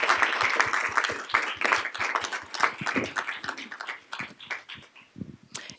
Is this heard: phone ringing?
no